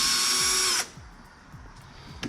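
A power driver with a T25 Torx bit whines loudly at steady speed while backing screws out of a Can-Am Ryker panel, then stops abruptly, leaving quiet handling noises and a small clack.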